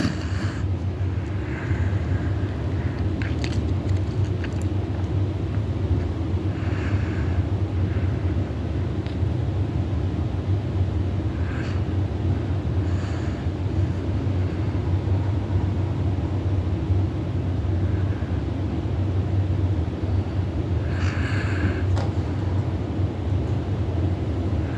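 A repaired Harbor Breeze ceiling fan motor runs with a continuous low, even hum and whirr that holds steady throughout.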